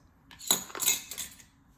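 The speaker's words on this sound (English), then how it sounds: "And we're gonna give this a mix." A utensil stirring almond flour bread batter with baking powder in a bowl, a few quick, light clinks and scrapes against the bowl, close and faint, with no talk.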